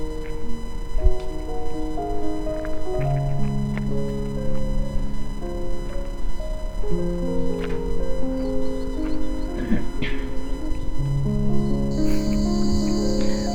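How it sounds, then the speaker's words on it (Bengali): Crickets chirp steadily along a forest road near the Neora forest camp in the Dooars at night, a dense layered drone of overlapping trills at moderate distance with no voices. "চারিদিকে শুধু ঝিঝি পোকার ডাক"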